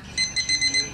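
A digital timer at an auto shop chirps with a string of short, bright electronic beeps in quick succession as its buttons are pressed, close and clear.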